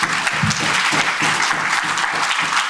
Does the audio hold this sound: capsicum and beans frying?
no